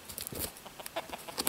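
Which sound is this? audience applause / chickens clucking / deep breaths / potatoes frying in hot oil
chickens clucking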